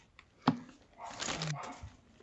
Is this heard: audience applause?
no